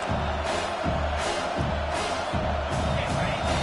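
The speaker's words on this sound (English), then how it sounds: "Decibels rising as the crowd gets behind this defense on third down." A stadium crowd at a football game roars steadily on third down, a dense, loud wall of cheering with rhythmic surges, likely stomping or chanting, throughout.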